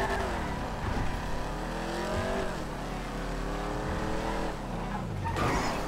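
An upgraded car in the video game GTA 5 races along at speed, its engine steadily revving and shifting pitch through turns, with a brief skid-like burst near the end and no talking.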